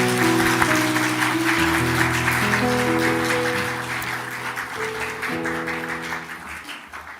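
Church members give welcoming applause in a Korean church service, a broad, continuous clapping over held musical tones that gradually fades toward the end.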